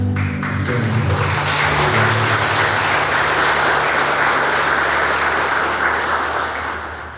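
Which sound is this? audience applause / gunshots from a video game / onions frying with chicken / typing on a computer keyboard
audience applause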